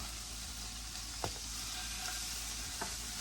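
Venison inside straps sizzle steadily in a hot pan for breakfast, a dense, continuous hiss with a couple of faint clicks from utensils, no talking.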